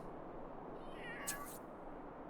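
A single kitten meows in The Sims 3, one clear, fairly faint mew rising over a steady low background hum, with no talking.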